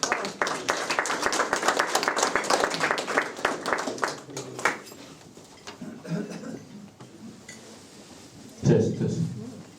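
An audience at a Knights of the Southern Cross national executive meeting claps for a speaker, brisk applause for about four seconds that thins to scattered claps, followed by handling noises and a brief voice.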